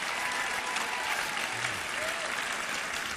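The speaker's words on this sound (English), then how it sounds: "a round of applause for the boys lacrosse team." Steady applause from an audience for a boys' lacrosse team during a sports awards show, a dense, even wash of clapping that holds at one level throughout, with a faint trace of voices underneath.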